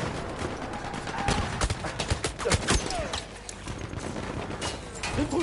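Machine guns fire in a Battlefield 1 battle, with crackling, irregular bursts of shots near and far over a busy battlefield din, while a voice talks over them.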